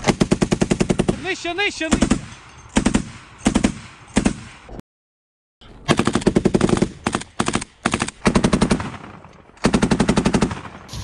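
Bursts of rapid machine-gun fire aimed at drones, loud and close, in repeated volleys with a brief silent gap midway; a voice speaks briefly between bursts.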